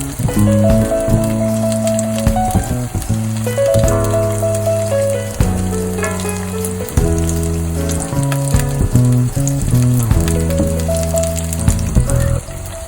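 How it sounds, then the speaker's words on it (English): Beetroot cutlets shallow-frying in oil in a pan on low to medium flame, a loud, dense crackling sizzle that runs continuously with busy popping, no voices. "You need to fry them till they are golden brown."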